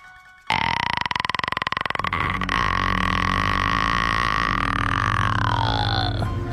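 A voice imitates the creaking sound from the horror movie The Grudge, a long continuous guttural croak that starts abruptly, rattles at first, then holds steady and loud for about six seconds.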